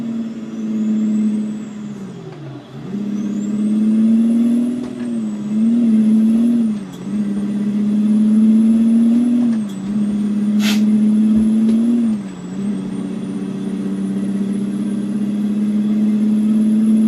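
A heavy truck climbs a hill steadily in 5th low, its engine holding a loud, even drone with brief dips at gear or throttle changes and a short air hiss partway through, with no talk.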